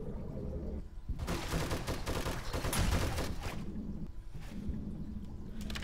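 Gunfire in the zombie survival video game 7 Days to Die, a dense and continuous burst of loud shots that swells and fades over several seconds amid game noise, with no voices.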